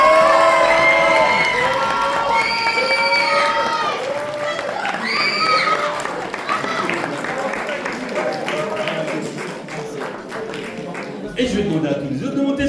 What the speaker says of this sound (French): vous avez le droit de les applaudir bien fort